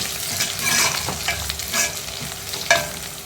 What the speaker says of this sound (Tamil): இன்னும் பச்சை மிளகா நல்லா வதங்கணும்